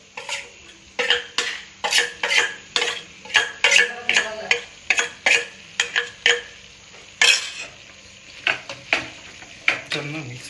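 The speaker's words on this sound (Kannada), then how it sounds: "ಚೆನ್ನಾಗಿ ಮಿಕ್ಸ್ ಮಾಡೋಣ." Chapathi veg roll filling being stirred in a pan with chilli powder, a steady run of scraping, clinking spoon strokes against metal with a faint sizzle beneath, close and regular throughout.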